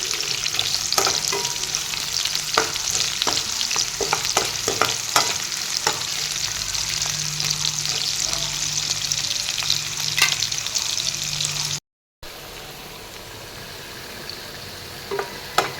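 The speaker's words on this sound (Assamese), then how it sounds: "জলকীয়া আৰু নহৰুখিনি দি দিছোঁ প্ৰথমতে এইখিনি অলপ ৰং চঙুৱা কৰি ল'ম" Green chillies, garlic and onion frying in hot oil in a pan, a steady loud sizzle running throughout with occasional stirring clicks, briefly cutting out near the end before resuming quieter.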